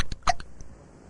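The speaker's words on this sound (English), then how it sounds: "This is the worst case of hiccups we've ever treated." A single cartoon hiccup from an animated character, a short, loud, close gulping burst followed by quiet.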